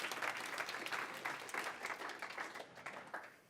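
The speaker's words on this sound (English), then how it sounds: "Yar, big round of applause for him." Conference audience applauding a speaker, a dense wash of many hands clapping at moderate level that holds steady, then thins and fades slightly toward the end.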